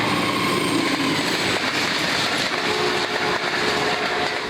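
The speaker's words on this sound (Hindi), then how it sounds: "रेलवे स्टेशन जहां से कई ट्रेनें सीटी बजाती गुजर जाती हैं" A train passes through a railway station, a loud, continuous rumbling roar with faint tonal whines throughout and no voices.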